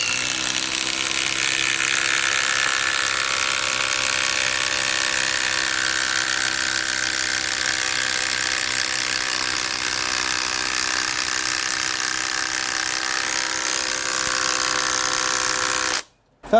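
A Milwaukee Gen 4 impact driver drives a screw, its loud, steady rapid ratcheting hammer running continuously for about sixteen seconds before stopping abruptly.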